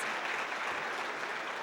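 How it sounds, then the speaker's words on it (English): Steady audience applause at an awards gala, a dense, even wash of many hands clapping close and loud for the whole stretch, with no voices over it. "I'm going to give her a round of applause for that."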